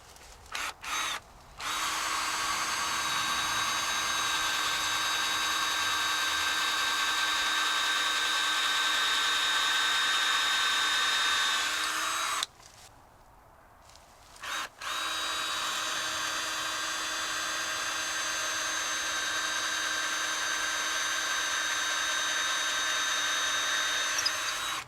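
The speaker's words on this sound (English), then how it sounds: "let's go ahead and drill our 4 holes." A power drill boring holes into a masonry surface to mount an ELEY model 1041 hose reel: a loud, steady whine runs for long stretches, broken by a short pause between holes before drilling resumes.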